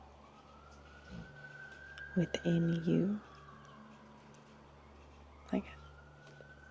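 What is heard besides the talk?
distant emergency vehicle sirens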